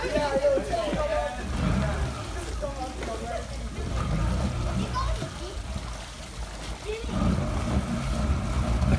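A Can-Am XMR 1000 ATV churns through a backyard swimming pool, its engine rumbling under repeated splashing and sloshing water, while several people, including children, talk and shout nearby.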